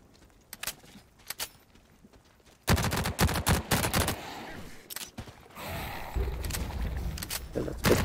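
SMG fire in The Cycle Frontier: a few faint isolated shots at first, then loud rapid bursts in quick succession over a steady background hum, with no voices.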